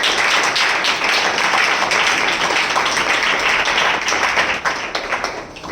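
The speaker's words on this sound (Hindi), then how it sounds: "हम जोरदार तालियों से उनका स्वागत करें" Congregation applause welcoming listeners at a Hindi Christian sermon, a steady wash of clapping that runs throughout and thins slightly near the end.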